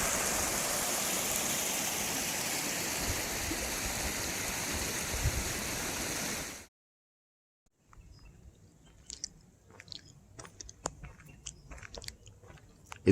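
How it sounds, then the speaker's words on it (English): A freshwater creek at Mill Creek on the Big Sur stretch of the California coast rushes in a steady, loud, broadband wash for about six seconds, then cuts out; quieter scattered clicks and knocks follow. "there's a freshwater creek that flows out right here."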